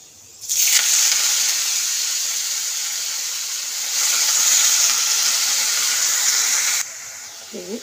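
Fresh methi greens go into hot oil with five-spice, setting off a sudden loud, bright sizzling hiss that holds steady for several seconds, swells once, then cuts off abruptly.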